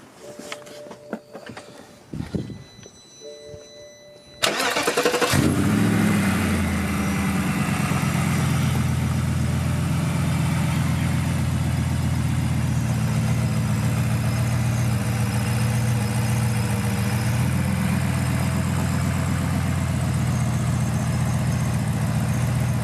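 A BMW N62 4.4 V8 with a freshly repaired vacuum leak at the eccentric shaft sensor seal settles into a steady, even idle after a brief start, a low continuous rumble held close and unchanging for about eighteen seconds.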